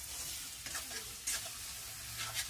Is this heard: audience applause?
no